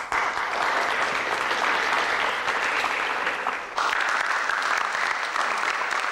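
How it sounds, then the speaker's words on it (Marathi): An audience applauds after a lecture, steady dense clapping throughout with a brief dip partway before resuming at full strength. "भाषण झालं की तुम्ही प्रेक्षक टाळ्या वाजवता"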